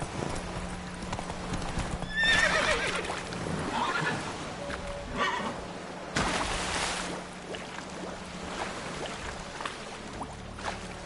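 A horse in the video game The Witcher 3 gives several whinnies and snorts over a steady rhythmic clip-clop of hooves, heard fairly near against a quiet ambient background.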